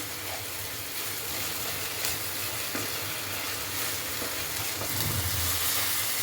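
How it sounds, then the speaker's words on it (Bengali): Ginger garlic paste sizzles steadily in a hot pan, a dense, continuous frying hiss that stays fairly loud throughout with no talking. "আদা রসুন বাটা দিয়ে দিলাম আবার এটাকে একটু ভেজে নেব"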